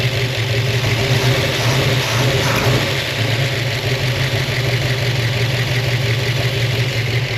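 A car engine that had been running rich, with soot in the exhaust, idles loudly up close, giving a steady low rumble with a faint knocking texture and no talk.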